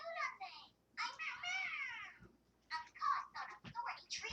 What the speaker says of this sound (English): The kitty's in here.